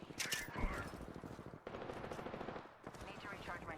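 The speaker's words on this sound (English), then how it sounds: "we're shooting at things over here" Rapid automatic gunfire from the video game Apex Legends during an arena fight, dense bursts of shots running nearly continuously and loud throughout, with faint game effects mixed in.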